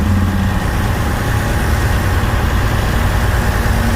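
A loud, steady diesel engine drone from inside an old bus, with a low continuous rumble and a faint turbo whine carried along for the full length, no voices heard.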